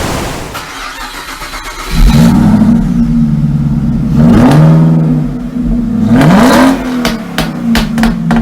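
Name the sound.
Chevrolet Silverado LTZ V8 ute accelerating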